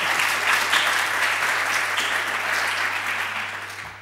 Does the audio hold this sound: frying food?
no